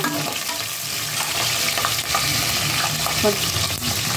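Green chilies fry in oil in a pan, giving a close, steady crackling sizzle with stirring scrapes throughout.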